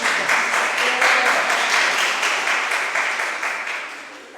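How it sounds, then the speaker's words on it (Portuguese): A crowd applauds steadily, a dense wash of clapping that holds for a few seconds and then begins to fade. "Palmas para a Margarida."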